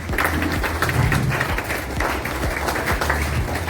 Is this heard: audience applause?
yes